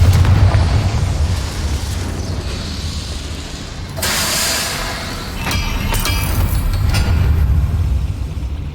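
A Confringo fire spell detonates in a video game: a loud, close explosive burst cuts in midway over a low rumbling background, followed by crackling debris.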